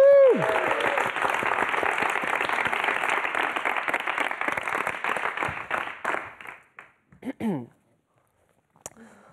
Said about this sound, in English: Let's give a big round of applause to John.